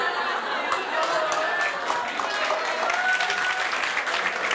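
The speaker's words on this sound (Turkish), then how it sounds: "El çırp." A seminar audience claps hands together, a dense, steady wash of applause that carries on throughout with a little crowd chatter mixed in.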